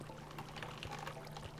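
Running shower water in the Minecraft video game, a steady broadband hiss of falling water that stays continuous and fairly faint throughout, with no speech over it.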